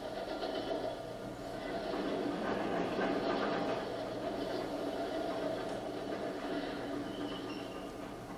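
A train runs on rails during a scene shot aboard for a film, giving a steady, continuous rumble with faint rhythmic clatter that holds at an even, moderately loud level throughout.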